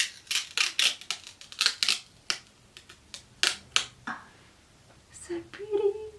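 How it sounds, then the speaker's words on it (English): Protective covering being peeled off a cosmetic cushion compact: a series of sharp crackling rips and snaps in irregular bursts, close and fairly loud, ending with a soft rustle. "Peeling off the beautiful covering right now."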